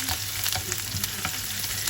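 Steady sizzling of chopped onions frying in a pan for liver sauté, with intermittent scraping and clinking as they are stirred, no voices.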